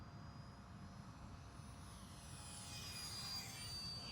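A small UMX 30mm Viper FPV model jet in flight, its faint high-pitched whine rising and sweeping as it passes by, over low wind rumble and no talk.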